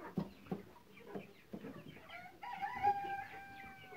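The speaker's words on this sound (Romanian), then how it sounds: "Ia uitați găina pitică din april" Bantam hens on a farm cluck in short scattered bursts, close and fairly quiet, followed by a louder drawn-out rooster-like call near the end.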